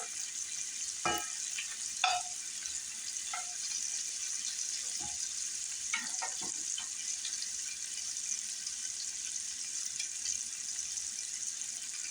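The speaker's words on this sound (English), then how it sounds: "And I got this on high. I'm kind of doing a stir fry." Greens stir-fry in a pan over high heat, giving a soft steady hiss with a few scattered clinks and scrapes from stirring, fairly quiet and close, with no voices.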